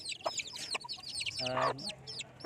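Chicks in a small coop cluck and peep repeatedly, near and fairly loud, with high chirps over a few lower clucking bursts in quick succession.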